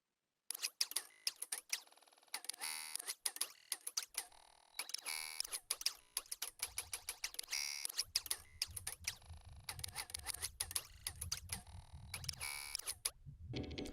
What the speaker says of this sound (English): I recorded this typewriter at another store, and then I kind of made like a pattern.